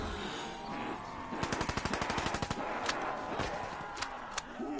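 Rapid automatic gunfire from the Black Ops 3 video game, a fast burst of evenly spaced shots followed by a few separate single shots, fairly loud over game background noise.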